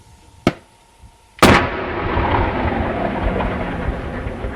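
A grenade detonates in one sudden, loud blast after a brief sharp click, then a long rumbling roar lingers and slowly fades.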